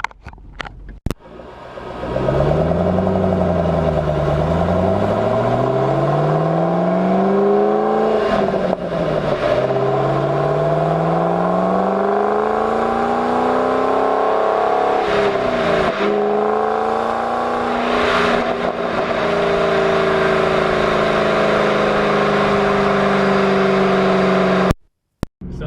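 A Shelby GT500 on drag radial tires accelerates steadily through the gears, its loud engine rising in pitch, dropping at each shift and rising again. The run continues close by for most of the clip, with no talk.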